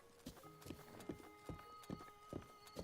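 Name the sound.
horse hooves clip-clopping in Zelda video game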